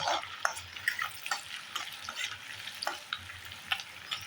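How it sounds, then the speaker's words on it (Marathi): Ginger and garlic fry in melted butter over high heat, a soft continuous sizzle broken by frequent light clinks and scrapes of stirring, close and quiet with no talk. "याच्यामध्ये आपण पहिले आलं आणि लसूण घालून घ्यायचे आहे गॅस मोठा ठेवायचा आहे"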